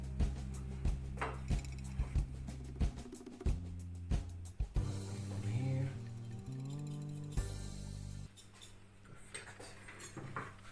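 Paprika and spices being stirred together for baked chicken: clinking taps of a utensil against a bowl repeat over steady background music, with no talk.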